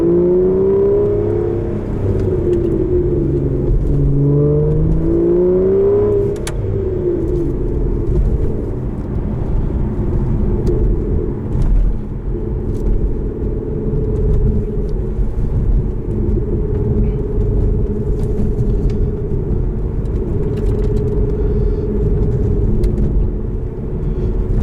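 The engine of a 2014 Aston Martin Vanquish revs and rises in pitch, then settles into a loud, steady low drone heard from inside the car, with no talking.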